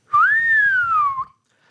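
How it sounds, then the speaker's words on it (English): A man whistles a single sustained, gliding tone that rises then slowly falls, loud and close, with a faint low rumble underneath and no talk. "Then he whistled."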